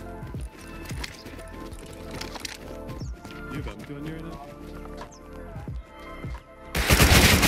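Rapid gunfire during a raid defence in the video game Rust, with scattered sharp shots and bursts throughout, clattering footsteps, and a louder burst of fire at the end.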